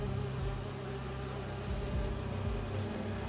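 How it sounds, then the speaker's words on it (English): Holographic bee wolves buzz in the video game Spider-Man 2, a soft, continuous insect-like drone with faint wavering pitch, heard alone without talk. "Do you see those little holographic bee wolves?"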